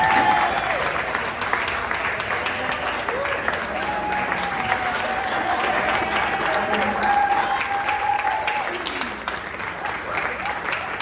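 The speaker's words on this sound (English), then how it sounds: "Please, a round of applause for Mr. Tree." Sustained audience applause fills an Arbor Day event hall welcoming a guest, with steady dense clapping, cheering and some crowd voices mixed in throughout.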